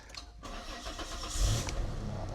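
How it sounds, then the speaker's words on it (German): A Citroen XM car engine starts and settles into a steady running idle, close by and fairly loud, with a brief swell as it catches. "Und dann läuft das Auto auch."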